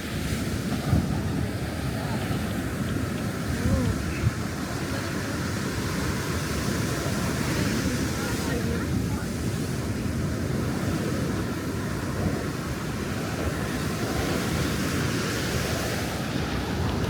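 Surf rolls and washes continuously along a crowded La Union beach, a broad roaring wash heavily buffeted by wind noise on the microphone, with faint crowd murmur beneath.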